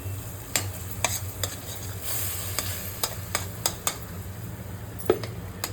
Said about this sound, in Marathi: आता ह्या दोन्हीही पेस्ट एकदम छानपैकी परतून द्यायच्या